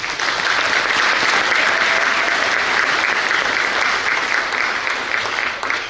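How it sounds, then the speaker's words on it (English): An audience at a high school National Honor Society induction ceremony gives the Rotary Club a loud, sustained round of applause, dense clapping from many people that holds steady and tapers at the end. "Let's give them a round of applause."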